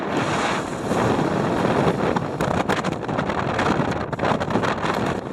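Strong wind blows across an exposed hilltop at Mam Tor, a loud, continuous buffeting rush hitting the microphone with gusty bursts and no voices.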